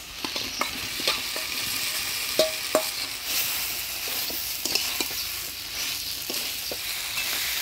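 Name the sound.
fried soybean and potatoes added to sizzling spice paste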